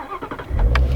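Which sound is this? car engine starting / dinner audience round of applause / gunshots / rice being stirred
car engine starting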